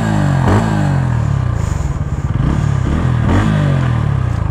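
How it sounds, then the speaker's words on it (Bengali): Exhaust of a 2025 Bajaj Pulsar N160 motorcycle, close and loud, with three or four sharp throttle blips that rise in pitch and fall back to a throbbing idle between them. "তোমাদের একটু এক্সস্ট নোটটা শুনিয়ে দিই। সেটা হচ্ছে আইডল সাউন্ড,"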